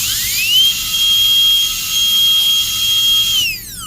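High-pitched dental drill whine, steady and loud, cutting a tooth during a Class II amalgam cavity preparation, rising at the start and dropping away at the end with brief pauses between cuts.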